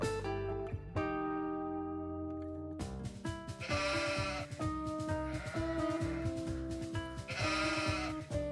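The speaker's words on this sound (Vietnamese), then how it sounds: "Con cừu. Con cừu." A sheep bleats repeatedly over bright children's music, the calls clear and close against the steady melody.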